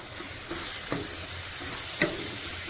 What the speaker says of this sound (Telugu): వేయించుకున్న రొయ్యల్ని నీట్గా దాంట్లో వేసుకున్నాం అలా కలుపుకోవాలి బాగా